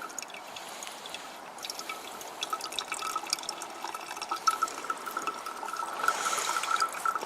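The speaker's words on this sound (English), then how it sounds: "So you can let it drip like that if you want." Water drips and trickles through a bottle filter at a wild camp on Loch Lomond in Scotland, faint patters building into a busier, steady dribble toward the end.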